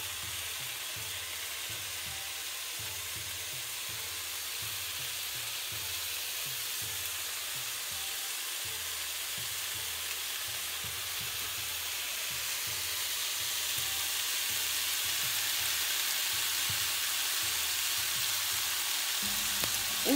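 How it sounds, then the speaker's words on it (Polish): Bacon slices sizzle and fry in a dry pan with no added fat, a steady close crackling hiss that runs unbroken and grows slightly louder toward the end. "Do smażenia boczku nie używamy tłuszczu, ponieważ wytopi się z boczku."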